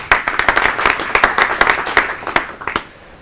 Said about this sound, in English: Give a round of applause for Mahesh.